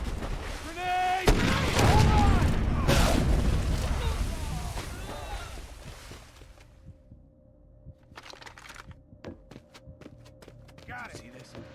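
A grenade blast and bursts of gunfire in the video game Far Cry Instincts Predator, a loud booming explosion early on followed by scattered sharp shots and fading rumble, with voices talking over it.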